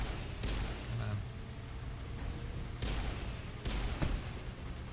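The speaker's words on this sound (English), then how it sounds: "Oh, rocket launcher." Rocket launcher fire in the Mass Effect video game, with several sharp blasts bursting out at intervals over steady low game background noise.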